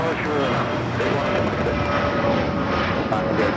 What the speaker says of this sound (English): That is a Dassault Falcon